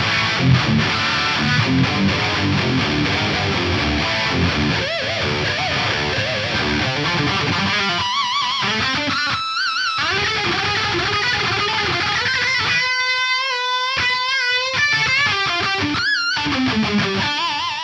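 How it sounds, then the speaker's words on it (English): Loud electric guitar through chunky distortion on the bridge pickup, a Wilde L500XL pickup, plays heavy riffs and chords on its own, ending on ringing, sustained notes. "when you run it through some chunky distortion on the bridge pickup"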